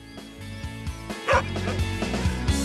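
Sled dogs outside Røros, Norway bark and yip in quick repeated bursts close by, an excited chorus of short yelps over a steady background.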